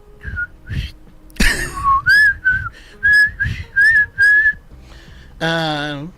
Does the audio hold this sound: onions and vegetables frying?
no